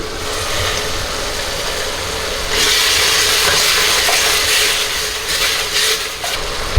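Onions and tomatoes frying in a pot for Ambur chicken biryani make a loud, close, continuous sizzle as they are stirred. The sizzle grows brighter partway through.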